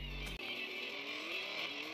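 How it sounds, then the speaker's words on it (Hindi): In an off-road racing video game, a car engine revs high and steady, with a brief low rumble and thump early on, followed by a continuous, rising whine. "अब इस गाड़ी की हम जंप करवाएंगे, देखते हैं ये कहां तक जाएगी"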